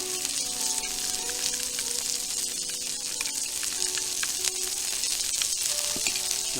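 Food sizzles loudly and steadily on a Blackstone 22-inch griddle as it is stirred, with a continuous crackling hiss and faint scraping, and no one speaking.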